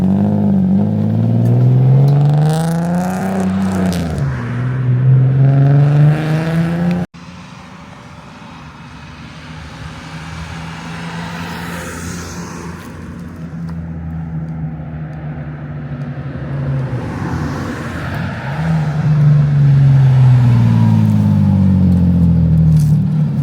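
A turbocharged Nissan 370Z engine revs hard through rising gear sweeps, goes quiet briefly, then accelerates loudly again nearby.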